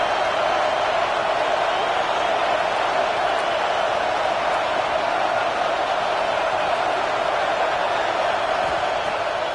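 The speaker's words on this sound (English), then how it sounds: "Listen to this crowd just shaking the girders of this place," A football stadium crowd roars to urge on its defense during Michigan vs Georgia: a dense, steady wall of cheering and noise that holds loud and unbroken throughout, with no single voice standing out.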